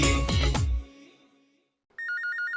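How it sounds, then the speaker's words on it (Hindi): A short musical chime fades out, then after a pause an electronic ringtone starts with a rapid repeating warble, loud and close. "ओहो, किसका फोन आ गया?"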